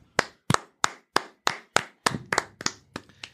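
Sharp, separate handclaps ring out one after another at a fairly steady pace, about ten in all, close and alone, with a faint second clapper joining toward the end.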